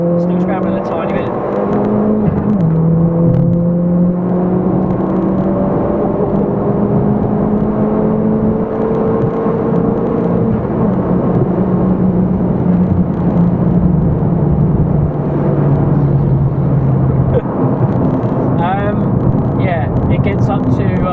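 A Stage 4 tuned Ford Fiesta ST accelerating hard through the gears on a motorway, a loud droning engine note rising and dropping at each shift under constant road roar, with someone talking throughout.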